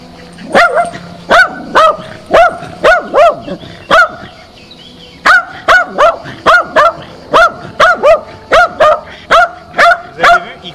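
A Jack Russell terrier barks loudly and repeatedly up close, sharp rhythmic woofs coming in quick series with a short pause partway through.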